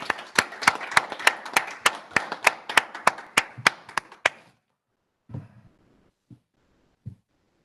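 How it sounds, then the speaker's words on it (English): Workshop audience clapping for the presenters: a steady, evenly spaced run of about a dozen crisp claps, close and clear, then stopping abruptly, followed by a few isolated soft knocks in near silence. "I'd like to applaud all of them."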